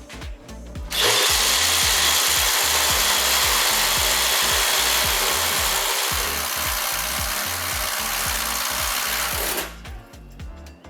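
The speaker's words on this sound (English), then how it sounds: "we have a 1 1/4 inch Spider Stinger auger bit with a brad tip and our non-pressure treated 4x4" An impact driver on an 8 amp hour battery at speed 3 bores a 1 1/4 inch Spider Stinger brad-tip auger bit into a non-pressure-treated 4x4, a loud continuous rattling grind lasting about nine seconds before the bit stops.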